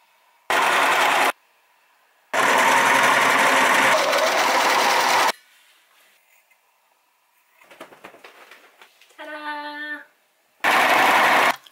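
A sewing machine stitches a dressing gown in loud, steady bursts of running, with short pauses between stitching runs and some quieter handling noise in the gaps; no talking.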